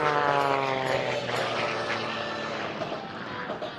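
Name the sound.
Bonanza aerobatic airplane diving at an airshow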